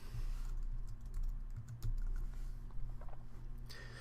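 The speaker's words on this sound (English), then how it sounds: "So I just type WinSCP into Google and I get the download page." Keyboard typing at a computer, a run of light, quick key clicks over a steady low hum, fairly close and fairly quiet, with no voices.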